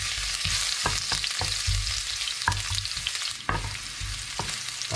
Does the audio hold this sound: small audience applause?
no